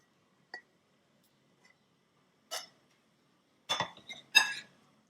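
Cooked mixed vegetable sabzi is spooned into a serving dish, heard as a few sparse, faint clinks and scrapes of a utensil against the dish, with a quick cluster of louder clinks near the end.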